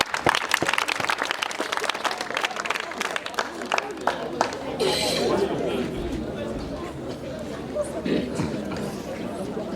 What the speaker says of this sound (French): On applaudit quand même, c'est bien.